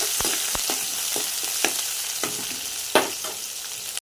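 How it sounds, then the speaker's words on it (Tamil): Sliced onion and curry leaves frying in hot oil for a soybean rice dish, giving a steady close sizzle with several sharp spoon scrapes and taps spaced through it, ending abruptly. "அடுத்தது வெங்காயம், கருவேப்பிலை போட்டுக்கோங்க. நல்லா தாளித்து விட்டுருங்க ஒரு 5 நிமிஷம்."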